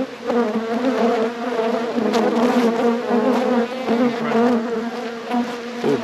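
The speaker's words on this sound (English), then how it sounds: "Bees are very, very active today on this site." Honey bees swarm around hives at a bee farm in South Wales, a dense, close, continuous buzz with individual insects droning past, and no voices.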